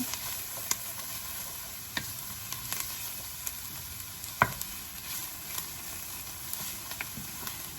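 Tomato soup ingredients cook in a pot with a soft, low sizzle. Occasional sharp ticks and taps from stirring break through at irregular moments, and no one speaks.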